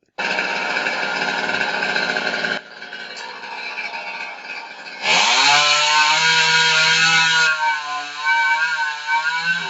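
A chainsaw cuts a notch into a tree, its engine buzzing loud and close, dropping to a lower idle partway through, then revving hard again with the pitch shifting as it bites into the wood.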